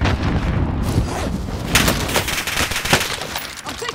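Video game gunfire rattles out in dense, loud bursts of shots that crack repeatedly over several seconds, with no talk over it.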